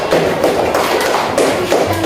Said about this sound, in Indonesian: kasih tepuk tangan untuk kelompok 1 ya.